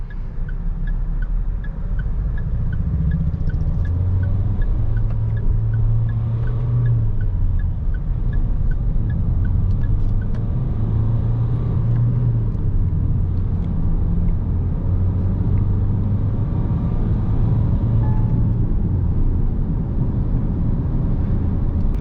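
A Mahindra XUV300 with a 1.5 litre diesel engine driven in manual mode, a steady low engine drone and road rumble from inside the cabin, with gentle rises and falls in revs and no talking.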